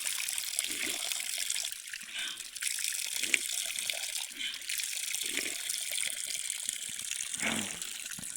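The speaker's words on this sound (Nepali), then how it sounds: "यस्तो कुवा रहेछ, कुवामा पानी आउनु रहेछ" Water pours steadily from a mountain well beside a stream in Jumla, Nepal, a close, continuous splashing trickle with no talking.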